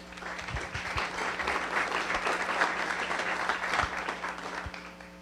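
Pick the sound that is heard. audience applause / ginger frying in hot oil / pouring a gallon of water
audience applause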